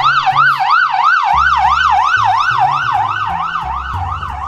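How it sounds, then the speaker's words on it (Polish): An ambulance siren wails in a rapid, repeating up-and-down pattern, loud and close as it passes, with traffic rumbling underneath. "Karetka przejeżdża."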